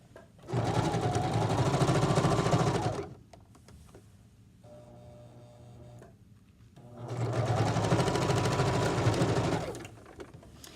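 A sewing machine stitches a pillowcase seam in two long, loud runs of steady mechanical whirring, separated by a quieter pause with light handling noise, as the seam is finished with back stitching.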